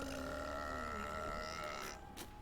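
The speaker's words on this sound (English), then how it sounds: "Dude, that belch sucked." A single drawn-out, strained belch in a game session, sustained and fairly loud with a tonal, grunting quality, trailing off into a short burst of noise near the end.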